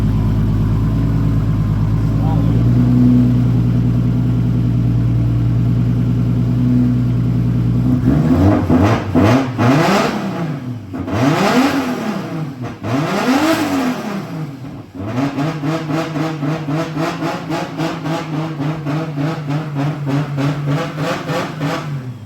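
A Toyota car engine fitted with Audi/VW ignition coils drones at a steady idle, then revs repeatedly, rising and falling in loud sweeping blips before settling into a fast, throbbing run near the microphone.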